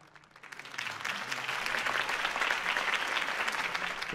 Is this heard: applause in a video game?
yes